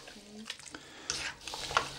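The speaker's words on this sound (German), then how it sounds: "Ich rühre mal sicherheitshalber ja, nochmal um." A spoon stirs potatoes and peppers browning in a pot, with soft scraping strokes, light clinks and a faint sizzle, quiet and close, and nobody speaks.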